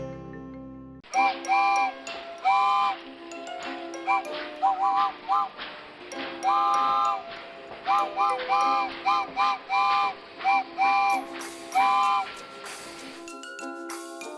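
A toy train whistle effect sounds as a long run of short, bright, shrill toots in a bouncy, irregular rhythm, loud and close, with no talking over it.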